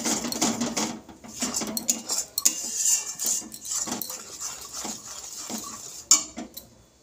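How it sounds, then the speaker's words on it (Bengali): Bengali spice paste for vegetarian potoler dolma, cooked down in a pan until the oil separates, stirred with a spatula that clinks and scrapes against the metal in an irregular run of close, fairly loud strokes, with no talking. "মশলাটা আমি ভালো করে কষিয়ে নেব যতক্ষণ না তেল ছাড়ছে আমার মশলা থেকে"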